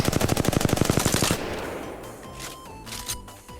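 An assault rifle fires a rapid burst of about fifteen rounds in the Apex Legends video game, loud and close, then cuts off into a low fading rumble with faint electronic tones.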